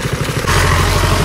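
A motorcycle engine chugs close by on a mountain road ride, loud and rumbling, picking up to a fuller, steady roar partway through the brief moment.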